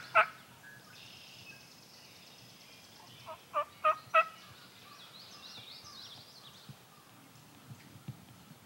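Wild turkey gobbling during a spring hunt in Michigan, one sharp gobble at the start then a louder rapid three-part gobble a few seconds later, moderately close, with faint chirps and rustling in between.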